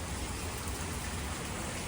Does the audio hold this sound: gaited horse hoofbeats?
no